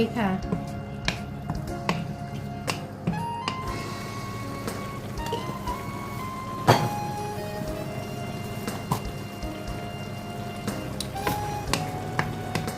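Beef stir-frying in a hot pan, a dense continuous sizzle with crackling pops and occasional clinks of a utensil against the pan, close and fairly loud.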